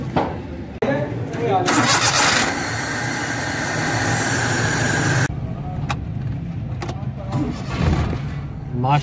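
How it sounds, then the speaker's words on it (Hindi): A Suzuki Mehran Euro EFI car cranks with a whirring starter, catches and revs loudly, then settles before cutting off, with someone talking over and between the engine sounds. "गाड़ी होगी स्टार्ट, ये आप आम गाड़ी मत समझे इसको, ये ईएफआई गाड़ी है"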